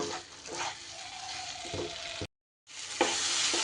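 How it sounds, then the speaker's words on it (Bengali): Fried potatoes are stirred into spice masala in a hot pan, a close sizzling hiss with scraping stir strokes, broken by a brief silent gap before the frying resumes. "আলুগুলো দিয়ে মশলার সাথে একটু ভালো করে কষিয়ে নেব"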